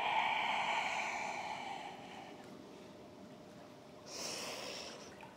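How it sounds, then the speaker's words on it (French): A slow, deep breath out during a back-relaxation stretching routine, a soft breathy rush that fades over several seconds before a brief second breath, close and quiet. "Encore une grande expiration"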